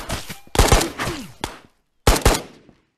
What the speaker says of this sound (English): Every time I fire the gun,